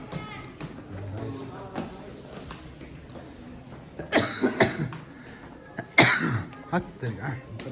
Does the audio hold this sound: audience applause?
no